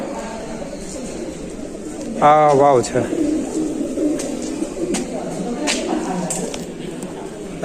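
Soft pigeon cooing repeats over steady outdoor background noise at a pigeon house in Uparkot Fort, Junagadh, with a voice briefly speaking partway through.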